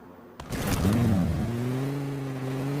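A vehicle engine in the video game PUBG Mobile starts with a sudden thump, then revs up and settles into a steady, close idle hum.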